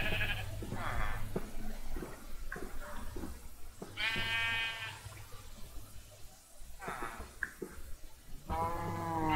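Minecraft sheep and goats bleat in repeated short wavering calls, several in a row spread across the stretch, mixed with someone talking and game background noise.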